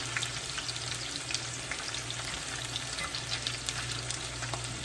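Mushroom caps fry in a hot pan with a dense, continuous sizzle and crackle, heard up close over a faint low hum and with no talking.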